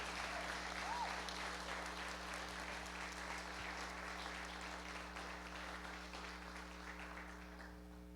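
A congregation at a church wedding ceremony applauds steadily, a dense wash of clapping that slowly fades, with a constant electrical hum underneath.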